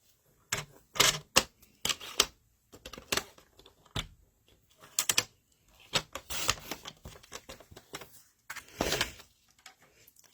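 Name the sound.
cutting card for a bay window fold card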